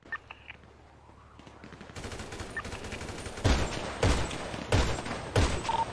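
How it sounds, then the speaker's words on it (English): Gunfire rattles in a GTA roleplay shootout on Mount Chiliad, a video game firefight with dense rapid bursts of shots arriving in repeated volleys after a quieter start. "They're shooting me pretty bad on the western side"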